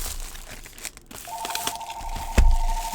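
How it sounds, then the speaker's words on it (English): Plastic wrap is torn and crinkled off a Time Spiral Remastered card booster box by hand without a cutter, a few close crackling rips and crunches over a continuous tone. "I don't have a box cutter on me, so I'm going to do this in a kind of crude manner."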